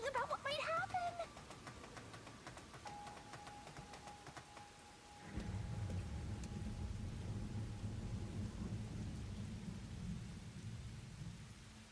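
Steady rain with a low rumble of thunder in the video game Rain Code, a dense wash that swells louder about halfway through, with a faint sustained tone and speech over it.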